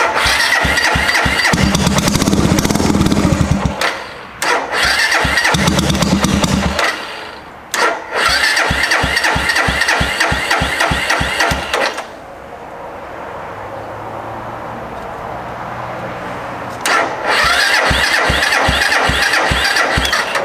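A previously stolen Suzuki GZ250 motorcycle engine cranking repeatedly: loud rhythmic starter churning in several bursts with short pauses, a quieter low idle-like stretch in the middle, then more cranking, all close up with no talking.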